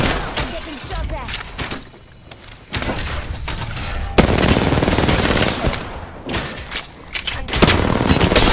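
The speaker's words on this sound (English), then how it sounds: "I'm getting shot." Gunfire in the battle game Apex Legends, loud rapid bursts of automatic shots with short pauses between volleys, close and intense, while a player talks over the shooting.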